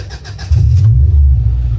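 A car on a power dyno fires up, a brief cranking starter whir giving way to a loud, close, deep engine rumble that settles into a steady idle.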